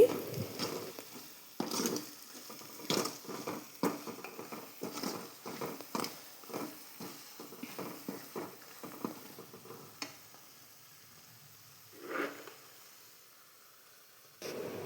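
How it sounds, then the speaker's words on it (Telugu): Turmeric and coriander powder fry in a pan for buttermilk rasam, heard as faint, quiet sizzling with soft intermittent stirring scrapes. "ఇప్పుడు ఇందులోని పావు టీ స్పూన్ పసుపు పావు టీ స్పూన్ ధనియాల పౌడర్ని కూడా వేసి వేయించండి"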